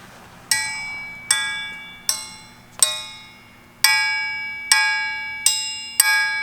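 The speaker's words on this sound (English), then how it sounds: "you took a brand new crankshaft, freshly machined, brand new, and you ring it. It's gonna ring like a bell" A used crankshaft is struck eight times at uneven intervals. Each strike gives a loud, clear metallic ring like a bell that decays slowly before the next hit. No one speaks.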